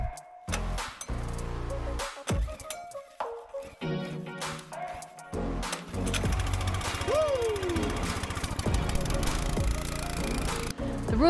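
A homemade massive snow blower engine, dug out of the snow, cranks in halting bursts with pauses, then catches and settles into a loud, steady rattling run with a rising tonal whine over it.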